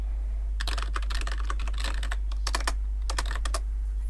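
Typing on a computer keyboard while setting up bubble chat in Roblox Studio, quick clustered key clicks in bursts over a steady low hum, close, with no talk.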